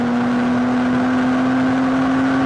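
A car accelerating in a drag race, with a loud, steady engine drone and a strong sustained tone that holds constant throughout, close and continuous.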